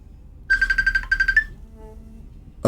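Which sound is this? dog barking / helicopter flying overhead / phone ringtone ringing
phone ringtone ringing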